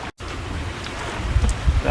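Steady wind gusts over the water aboard a sailboat under jib, a broad low rushing roar that swells louder toward the end, close to the microphone, with a brief dropout near the start.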